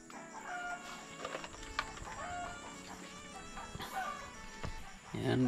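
Hens in a homemade backyard coop cluck and crow faintly in the background, scattered calls over a quiet farm setting while a person talks nearby.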